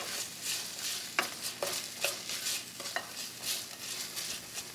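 Jalapeno pepper sizzles in a frying pan while a utensil stirs it, giving a steady frying hiss broken by a few sharp scrapes and taps against the pan, close and moderately loud.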